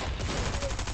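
Dense, continuous SMG fire from a mythic weapon in Fortnite Battle Royale, loud and rapid over one second.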